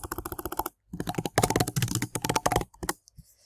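A computer keyboard is typed on while entering text into a Google Sheets spreadsheet, producing rapid, close bursts of key clicks separated by short pauses and tapering off at the end.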